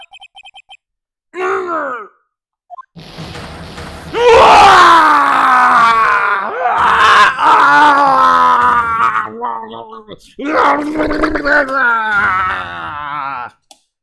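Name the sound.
scream in Phoenix Wright: Ace Attorney video game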